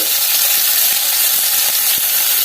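Onions and green chillies sautéing in hot oil for a prawn gravy, a loud, dense, continuous sizzle that holds steady throughout, close up with no talking.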